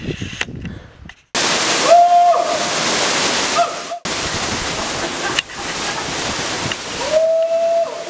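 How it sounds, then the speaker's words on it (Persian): Main waterfall at a tourist attraction in Mashhad, a loud steady rushing roar of falling water, briefly cut off twice, with a few short high whistle-like tones sounding over it. "این هم آبشار اصلی"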